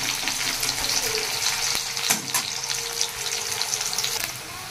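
Onions fry in a little oil for an Odia Indian spinach and prawn dish. A steady crackling sizzle runs throughout, broken by a few sharper clicks and scrapes.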